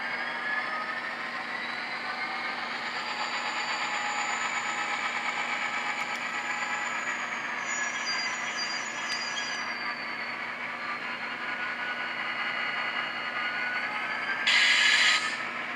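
An HO scale DCC model locomotive with sound decoder, steady engine rumble with a hissing air release burst near the end, no talking.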